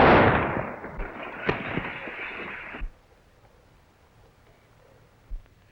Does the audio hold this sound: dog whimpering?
no